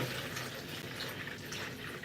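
A kitchen tap running cold water into a bowl, a steady close hiss and splash of the stream that continues for about two seconds, soft and unbroken.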